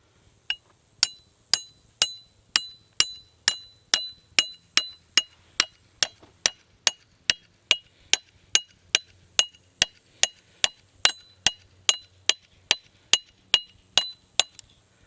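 A small hatchet hammers a chain-sharpening tool down into a small log stump: about thirty sharp, ringing metal strikes land in a quick, steady rhythm, close and loud over a quiet outdoor background.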